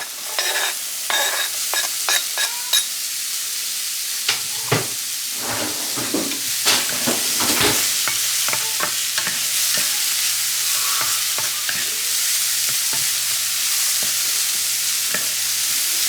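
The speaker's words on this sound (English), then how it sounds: "But I'll get that sauteing while I do that." Chopped yellow peppers and onion sizzle steadily in a hot pan, broken by repeated scraping and stirring clicks from a utensil, with no talking.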